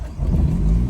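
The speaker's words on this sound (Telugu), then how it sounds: "Start the car." A car engine comes to life during a driving lesson, a short low rumble that swells and holds steady for about a second, close and fairly loud, with no talking over it.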